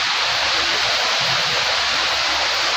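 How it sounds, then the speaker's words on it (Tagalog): Steady rain falls in a Philippine backyard garden, a dense continuous hiss of heavy downpour with no talk over it. "Ulan na diri guys."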